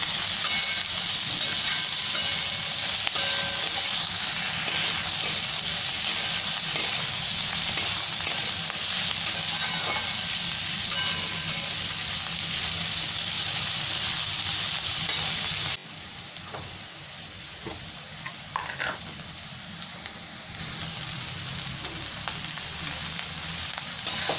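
Thick coriander stems and vegetables sizzle steadily in a hot pan for fried rice. The frying hiss stays loud and even, then drops quieter partway through, with occasional stirring clatter.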